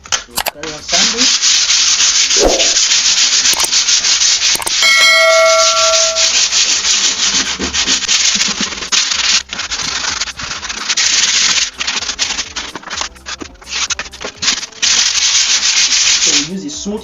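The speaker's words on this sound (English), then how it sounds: "We need to carry out sanding of the top surface of the table" Sandpaper rubs back and forth across a wooden table top being restored, a loud, close, continuous rasping scrape that runs nearly unbroken, with a brief bell-like ring early on and no voices.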